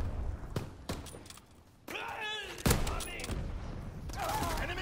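Gunfire in a WWII video game battle: scattered sharp shots and thumps at moderate loudness, with a whining, wavering mechanical tone in the middle and ongoing battle noise around it.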